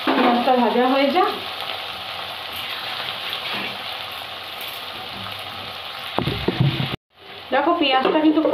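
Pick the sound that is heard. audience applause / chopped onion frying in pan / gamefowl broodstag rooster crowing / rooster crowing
chopped onion frying in pan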